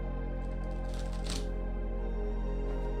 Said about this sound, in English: I'm going to shuffle this one more time